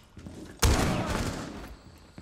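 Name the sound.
shotgun fire in Rainbow Six Siege video game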